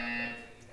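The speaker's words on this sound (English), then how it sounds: "When you hear the buzzer, stare at the art." A short electronic buzzer from the Portal 2 video game, a steady harmonic drone lasting under a second that fades slightly toward its end, heard alone at moderate level.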